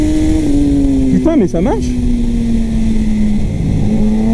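A Kawasaki ZX-10R sportbike idles with a steady drone, then gets a couple of quick throttle blips that spike and fall back before settling to idle again, with someone talking over it.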